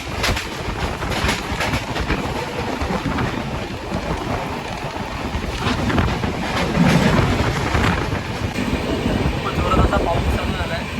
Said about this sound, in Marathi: जोरात असा पाऊस चालू झाला आहे.